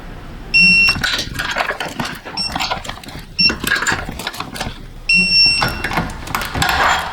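A torque wrench gives short high-pitched electronic beeps in three separate bursts while tightening to 66 lb, mixed with ratcheting clicks and mechanical clatter close by, during a Toyota Prius brake job.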